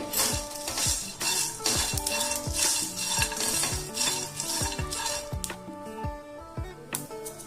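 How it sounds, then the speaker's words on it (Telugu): Shahjeera and cumin seeds are dry-roasted in a pan with torn bay leaves, producing a quick series of spatula scrapes and ringing metallic clinks against the pan over a faint crackle. "ఇది దోరగా వేయించుకుంటుండండి"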